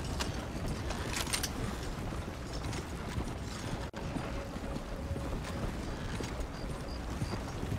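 Horse hooves clip-clopping at a steady walking rhythm in Red Dead Redemption Online, with a horse-drawn wagon's creaking mechanisms and ambient outdoor noise around it.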